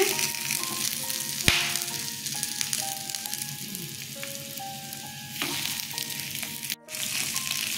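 Stuffed ash gourd slices sizzle in hot oil in a pan, a continuous close crackling fry with a short interruption near the end, accompanied by background music.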